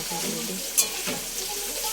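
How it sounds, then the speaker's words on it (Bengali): Ginger, tomato and spices fry for a potato curry gravy in a pan, with a close, steady sizzle, a brief sharp spatter near the middle and soft stirring scrapes. "এটা হচ্ছে আলুর দমে মশলা কষছি, আল মতো একটু গ্রেভি করে নিচ্ছি।"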